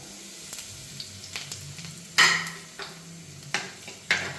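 Chillies dropped into hot oil already crackling with mustard seeds for a dried mango pickle, a quiet steady sizzle broken by sharp spitting pops and occasional utensil clinks, no voices.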